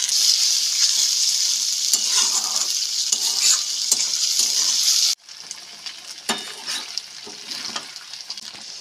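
Fish innards fry with browned onions in a pan, giving a loud continuous sizzle with stirring scrapes that suddenly drops to a quieter, crackling fry partway through.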